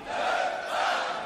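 Crowd at a Grand Beatbox Loopstation Battle semi-final shouts a chanted response in unison, a loud, sustained roar of many voices lasting just over a second.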